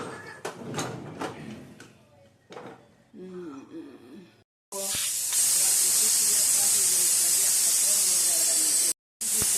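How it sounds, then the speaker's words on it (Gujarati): A pressure cooker holding a Gujarati val and potato curry with tomatoes clanks a few times, then lets out a loud, sustained, rushing steam hiss that runs on for several seconds with a brief break. "અને હવે આપણે કુકરનું ઢાંકણું બંધ કરી દઈશું અને હવે આપણે આની સીટી વાગવા દઈશું"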